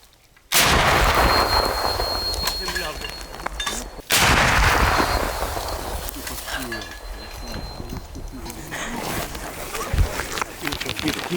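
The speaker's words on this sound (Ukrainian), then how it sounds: "Постріл!" Two heavy, booming artillery blasts go off a few seconds apart at the war front in Ukraine, each followed by a long rumbling echo, with voices talking in between.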